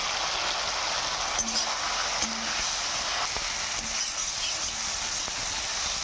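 Potatoes and drumsticks sautéing in a pan with salt and cumin powder for a fish curry: a steady, rain-like frying hiss with occasional faint crackles and a few soft clicks, close up with no voices.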